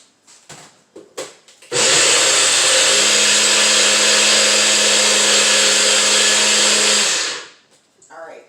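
Blender pulsing a superfood smoothie with chia seeds, a loud steady whir lasting about five seconds that starts abruptly and winds down, with brief clatter and talk before and after.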